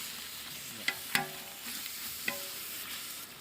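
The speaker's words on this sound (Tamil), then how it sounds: "அடி பிடிக்காத அளவுக்கு நல்லா திருப்பி விட்டுங்க" Masala being stirred in a pan for country chicken biryani: a soft sizzle of frying oil underneath, with a few sharp scrapes and clinks of a spoon against the pan, quiet and close.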